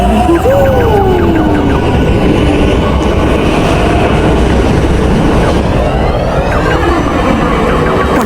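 Loud continuous rumble of a train in the video game Roblox, with screeching wheel squeals and metallic whines rising and falling over the steady roar.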